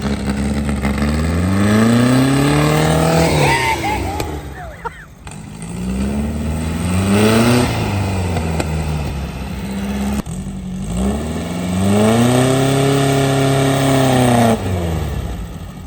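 A 1970s VW sand rail engine, its carburetor leaking fuel from the accelerator pump, runs loud and close in repeated revs, each climbing high and then easing back, under a steady idle.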